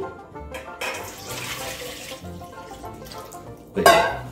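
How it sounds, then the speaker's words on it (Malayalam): Water poured into an idli steamer pot, a splashy, gurgling pour that runs steadily and surges louder near the end, heard close up in a kitchen. "അതിൻ്റെ അകത്ത് ആവശ്യത്തിനുള്ള വെള്ളം ഒഴിച്ചു"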